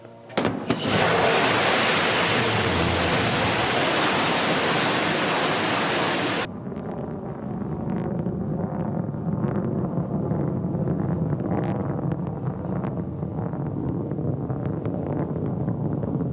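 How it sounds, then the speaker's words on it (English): Rocket engine ignition on a Blue Origin spaceflight in October 2021: a loud, dense roar fills about six seconds, then cuts abruptly to a quieter, steady rumbling hiss that continues to the end. "Command engine start."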